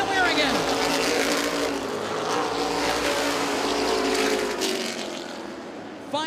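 Modified race cars scream past on the final lap of a Racing for Miracles Modified C feature, their engines loud and continuous with rising and falling pitch as they pass, and an announcer talks over the roar.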